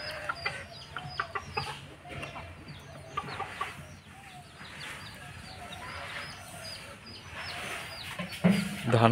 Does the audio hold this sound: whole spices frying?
no